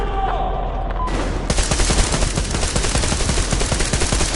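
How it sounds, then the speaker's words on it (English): Sustained automatic gunfire in Metro Exodus, loud and close, with rapid bursts of overlapping shots rattling steadily after a brief quieter moment at the start. "Covering fire for the Colonel. No saving ammo!"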